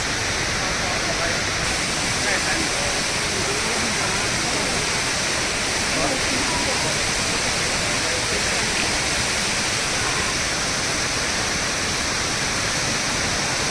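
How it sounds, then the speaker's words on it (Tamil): The indoor waterfall at Jewel Changi Airport in Singapore roars in a dense, unbroken rush of falling water, loud and steady throughout, and no voices come through. "ஜுவல் ஃபால் தண்ணி விழுக்குது"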